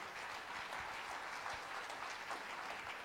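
Church congregation at a youth revival service clapping steadily together, a dense even wash of applause that holds for about three seconds with no voices.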